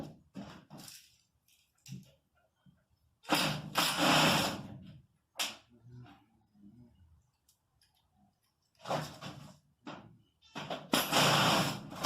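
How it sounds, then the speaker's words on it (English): An old mining drill in a shed, running in two loud bursts of a few seconds each, separated by quieter clicks and handling noises, close and with no talk. "We got the old mining drill."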